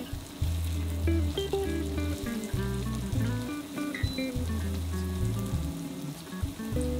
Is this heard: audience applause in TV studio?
no